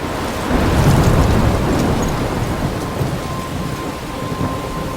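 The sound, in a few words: thunderstorm in the video game Life is Strange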